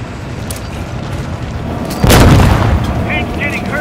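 A C4 charge detonates on a tank in Call of Duty Modern Warfare II: a single loud, close blast about halfway through, over a steady bed of game noise, followed by a rumbling tail and faint chirps.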